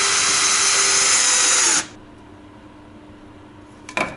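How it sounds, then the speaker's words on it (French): A power drill bores a pilot hole into wood, giving a loud, high steady whine for nearly two seconds before spinning down, then near-quiet with a brief clatter at the end. "Perce un avant-trou avant de mettre ta vis, en prenant garde de prendre une mèche de diamètre inférieur à celui de ta vis."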